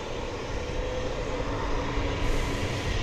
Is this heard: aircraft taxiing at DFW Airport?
yes